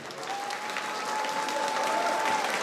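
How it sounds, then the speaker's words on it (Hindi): A crowd applauding continuously, steady dense clapping from many hands throughout. "मैं चाहूंगा आप 2 गुना तालियां बजाएं इनके लिए"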